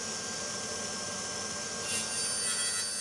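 Hand saw strokes through cherry wood as mitered box sides are cut, a quiet steady rasping that grows slightly louder toward the end, with no talking.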